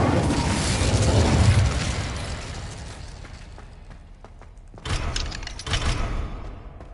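Incendio fire spell cast in a Harry Potter video game: a loud, roaring burst of flame that slowly fades, followed by a second sharp blast with rumbling aftershocks.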